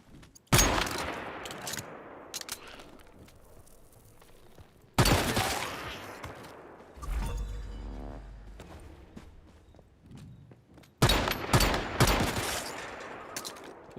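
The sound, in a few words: pistol gunfire in the video game Once Human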